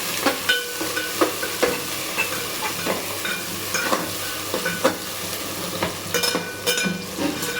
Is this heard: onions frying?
yes